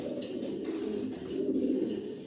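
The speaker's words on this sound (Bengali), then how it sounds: "অনেক বড় সাইজের একটা কবুতর দেখতে পাচ্ছি" Soft, low cooing from a large racing pigeon that rolls on steadily throughout, with faint background noise and no talking.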